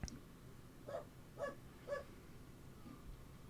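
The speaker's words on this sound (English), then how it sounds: "That dog has said more than Hope" A dog barks three times in a quick, evenly spaced run, moderately loud against a low background hum, with a faint fourth sound trailing after.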